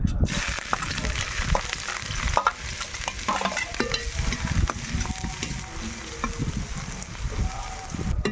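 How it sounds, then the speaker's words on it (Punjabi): Grated onion tipped into hot oil for a lobia dal tadka, sizzling loudly and steadily with scraping stirs and clinks of a spoon against the pan, close up and without talk. "ਤੇਲ ਆਪਣਾ ਗਰਮ ਹੋ ਚੁੱਕਾ ਤੇ ਹੁਣ ਸਭ ਤੋਂ ਪਹਿਲਾਂ ਆਪਾਂ ਪਿਆਜ਼ ਪਾ ਦਵਾਂਗੇ"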